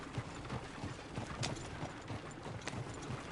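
Horse hooves clip-clop in a steady, quick rhythm in the Red Dead Redemption 2 video game, close and clear over a busy background of game ambience.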